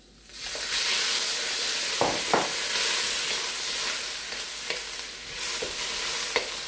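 Shrimp drop into hot oil with garlic and ginger for Thai basil shrimp, giving a loud, steady sizzle throughout, broken by a few sharp clinks and scrapes of stirring.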